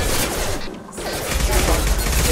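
Dense gunfire erupts in a sci-fi shooter battle in Mass Effect 2, loud, continuous bursts that dip briefly before resuming with heavy low rumble.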